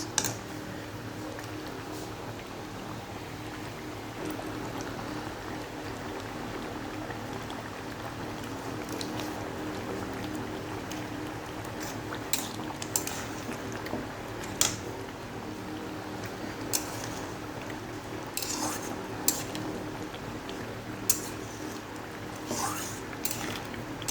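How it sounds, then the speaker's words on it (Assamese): Assamese mustard curry with small tingora fish simmering in a pot, giving a continuous low bubbling wash punctuated by occasional clinks of a utensil against the vessel. "এতিয়া আঞ্জাখন উতল অহাৰ পিছত মই মাছখিনি পেলাই দিলোঁ।"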